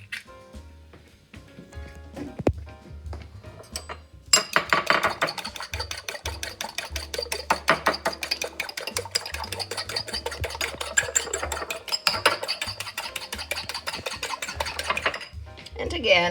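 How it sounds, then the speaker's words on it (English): An egg being beaten with a fork in a bowl for a Greek tiropita, rapid rhythmic clicking and scraping against the bowl that follows a few quieter knocks and clinks. "I will beat one egg with egg white of the previous one."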